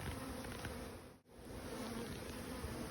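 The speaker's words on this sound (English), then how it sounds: "I've got this one big one with all these bees" A swarm of honey bees from a large Russian honey bee swarm drones in a dense, steady buzz close by, with a brief dip as a branch is shaken.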